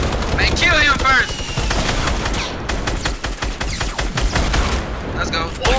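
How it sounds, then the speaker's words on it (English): Rapid, loud automatic gunfire from a minigun in a video game, sustained bursts of shots filling the clip with excited voices talking over the fire. "he's got a goddamn minigun"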